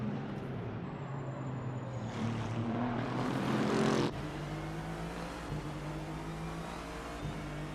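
GT race cars in the Bathurst 12 Hour run as a close pack, several engines droning together, rising to a louder swell of revving as the group passes near, then easing back to a steady, more distant hum.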